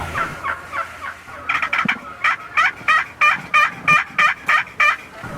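Wild turkey gobblers gobbling during a Nebraska turkey hunt, a run of about ten loud, rapid rattling gobbles following one another at a steady rhythm, close by and alone with no talk.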